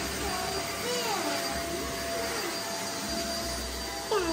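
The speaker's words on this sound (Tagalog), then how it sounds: "Gamit na gamit naman ng vacuum." A household vacuum cleaner runs steadily and loudly, a continuous whirring roar throughout with faint voices in the background.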